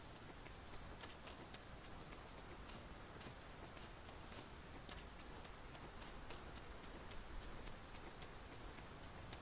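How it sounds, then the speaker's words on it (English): Rain falling in the video game Dragon's Dogma 2, a steady hiss of downpour with scattered sharper drips, soft and even throughout, no talk. "It started raining."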